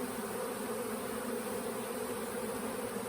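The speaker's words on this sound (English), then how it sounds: "I had these queens sitting out here, and we attracted a swarm" A honey bee swarm buzzes densely and continuously around caged queen bees outdoors. The drone is steady and moderately close, with no voices.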